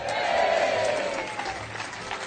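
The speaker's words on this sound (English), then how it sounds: "Big cheer for Kirky." Crowd at a tribute event cheering and applauding together, a dense steady roar of claps and voices that is loudest early and eases slightly toward the end.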